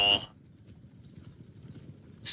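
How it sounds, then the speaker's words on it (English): Hooves of an undead horse clopping in the Realm of Thrones game, a quick run of soft rhythmic clops under a low rumble, framed by brief loud bursts at the start and end. "So cool with our undead horse"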